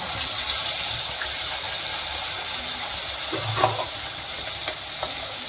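Lentil curry (masoor aamti) is stirred with ground masala in a pan, giving a soft, steady sizzle and hiss with a few light scraping taps of the spoon, nearby and fairly quiet.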